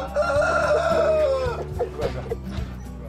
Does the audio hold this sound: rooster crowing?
yes